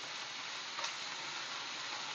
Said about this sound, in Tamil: இஞ்சி போட்டு எண்ணெய் ஊற்றி நல்லா ஃப்ரை பண்ணிக்கலாம், ப்ரௌனிஷ் ஆற வரைக்கும்